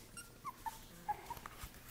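Mother dog whimpering for her four-week-old litter of puppies: several faint, short, high-pitched whines and yips scattered over quiet room background.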